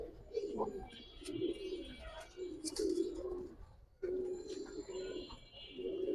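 A senior black-line Giribaz pigeon coos in soft, repeated throaty phrases, fairly faint, with occasional voices and market noise behind.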